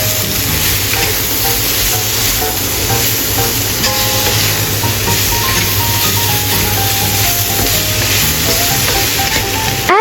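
Vegetables seasoned with salt, pepper, mushroom powder and vegan oyster sauce stir fry in a pan, giving a steady, dense sizzle with faint scraping and clatter throughout, close and continuous without talk.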